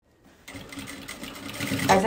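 After a brief pause, a sewing machine stitches along the edge of a fabric Bible cover, its rapid mechanical whirring running steadily and growing slightly louder, with a voice faintly present.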